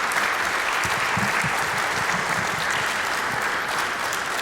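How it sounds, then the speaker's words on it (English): An audience at a talk on antisemitism and racism on campus gives a speaker a steady round of applause, dense continuous clapping with a faint murmur of voices beneath it. "one more round of applause for Dr. Brandy Shufutinsky"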